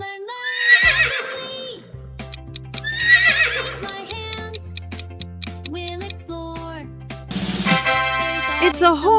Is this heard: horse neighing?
yes